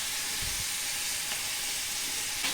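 Sliced onions dropped into hot oil for a beetroot stir-fry, a soft steady sizzle and hiss of frying with a couple of faint clinks, quiet and even throughout.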